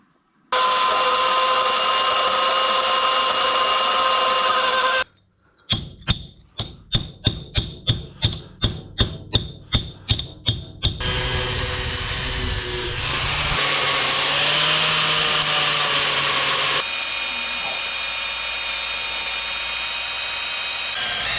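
A loud power tool trimming metal rear shock mount brackets in a shop, with a steady grinding whine, then a run of sharp rhythmic impacts, then more sustained cutting noise.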